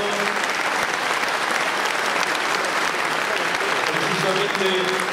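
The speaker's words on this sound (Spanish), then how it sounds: "Fuerte el aplauso, no se escuchó mucho." Audience applause at an award presentation during the opening ceremony of JIAP 2015, a steady dense clapping from a crowd that fills the whole stretch at an even level.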